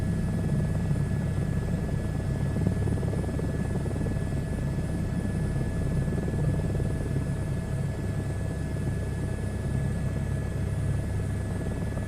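Helicopter in a VR flight simulator flying steadily through a crosswind, its continuous rotor thrum and engine drone filling the whole stretch at an even, close level.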